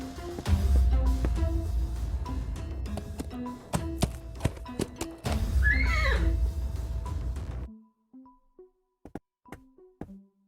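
A horse whinnies in the point-and-click adventure game Willy Morgan and the Curse of Bone Town, rising and falling over dense game music and tapping before the sound cuts to sparse clicks.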